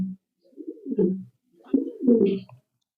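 A pigeon at a pigeon farm in Kashimpur, Gazipur, gives two clear, close, rolling coos separated by a short silence, with a brief low note at the start and no talking.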